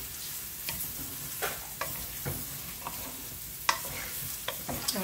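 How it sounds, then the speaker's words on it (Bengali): Vegetables for a vegetable khichuri are stirred and mixed in a cooking pot over a steady sizzle, with a spoon scraping and clinking against the pot in irregular strokes and a few sharper knocks; no one speaks. "আমি একটু নেড়েচেড়ে আবার মিক্স করে দিচ্ছি"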